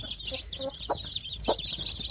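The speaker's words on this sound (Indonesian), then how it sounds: "di box ini anak ayam kampung saya ini berkumpul ya sedulur, ini ramai sekali" Newly hatched village chicks in a box chirp and peep constantly in a busy, overlapping chorus, with a few lower clucking notes mixed in, close by.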